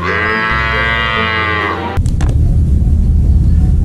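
A water buffalo moos in one long, loud, sustained low call lasting about two seconds, followed by a burst of broadband noise, heard alone with no talking.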